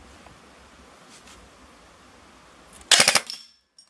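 ASG Scorpion EVO 3A1 airsoft gun fires a quick cluster of rapid burst shots, sharp, loud and close, after a quiet lead-in of faint handling noise.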